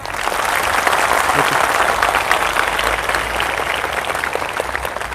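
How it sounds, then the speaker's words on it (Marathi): A crowd claps loudly and continuously at a youth trainees' protest in Nashik, dense steady applause filling the whole stretch. "टाळ्या कडकडाट झाला पाहिजे"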